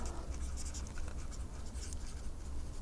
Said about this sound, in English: So I'll just write his name on there.